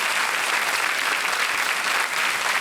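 A television quiz show studio audience applauds a winning contestant, with dense, continuous clapping that stays even and loud throughout.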